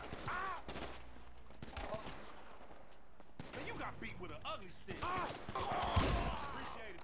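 Gunfire rings out in Grand Theft Auto V: sharp, rapid shots and bursts, some like machine-gun fire, crackle irregularly across the scene while people talk over them.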